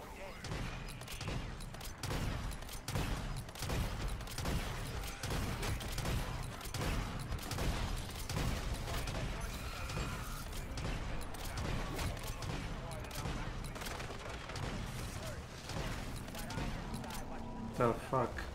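A minigun fires in a video game as a dense, sustained stream of rapid gunshots, steady and fairly loud throughout, while people talk over the shooting.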